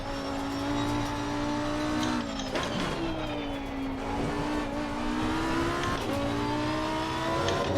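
A Lamborghini race car laps the Nürburgring in Assetto Corsa Competizione, its engine holding a loud, sustained tonal roar that rises and dips with revving and gear changes throughout, with no voices.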